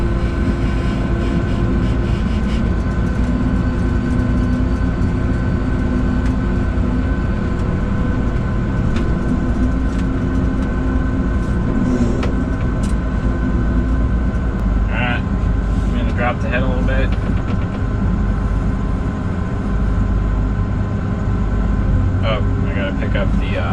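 A farm tractor engine drones loudly and continuously in a shed as it backs out, a steady low-pitched rumble with whining tones and occasional clanks, while someone talks over it.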